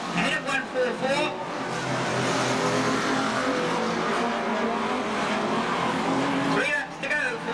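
Unlimited banger racing cars lap Ringwood Raceway with loud, continuous engine roar and occasional tyre squeal, while a commentator talks over the racing throughout.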